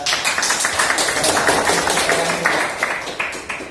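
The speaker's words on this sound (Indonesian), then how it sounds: "Kita berikan tepuk tangan karena kita" An audience at a pastoral activity in Maumere claps together, a dense, lively patter of many hands that stays loud and steady for several seconds before easing slightly at the end.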